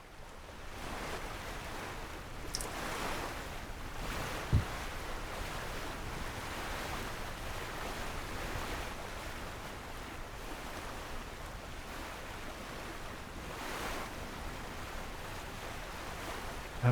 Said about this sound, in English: The wind has actually picked up a bit as well.